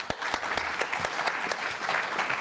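A studio audience at a televised political debate applauds steadily, a dense, continuous clapping that holds at even loudness throughout with no voices breaking through.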